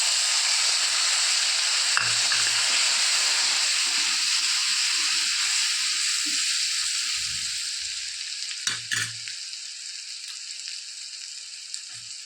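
Tomatoes dropped into hot ginger-garlic paste in a pan, a steady loud sizzle and hiss of frying that slowly settles to a softer crackle, with a few light stirring knocks and clatters.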